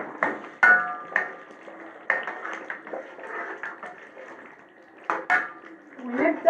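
Spices, among them cumin, chili, black pepper, coriander and salt, are stirred into a rice and cabbage stuffing in a bowl, giving close, irregular clinks and scrapes of a utensil against the dish with brief pauses.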